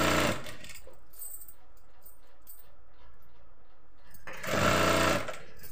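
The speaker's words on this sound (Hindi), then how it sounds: "चले दो पे रख के सिलाई करते हैं।" Sewing machine stitching a kurti, two short loud bursts of rapid mechanical whirring at the start and end, with a quieter hum and faint clicks between them, close by and no talking.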